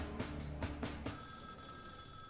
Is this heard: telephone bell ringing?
yes